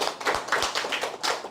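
A welcoming audience at a lecture claps together, a dense close burst of hand claps with a rhythmic patter throughout the short moment.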